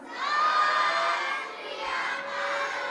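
A crowd of Sikh congregants shouts a jaikara response in unison, a loud sustained roar of many voices that swells, dips briefly and rises again.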